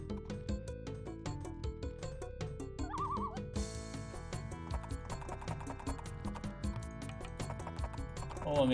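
Mounted horse archers in an Age of Empires game, with horse whinnies and clip-clopping hooves over a busy music score and clicking battle effects.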